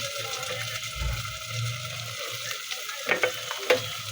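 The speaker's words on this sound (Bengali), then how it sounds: "একটু নাড়াচাড়া করে ভেজে নেব" Vegetables being stir-fried in a pan for kidney bean khichuri, a soft frying hiss with low rumbling and a few utensil clinks near the end, faint background voice.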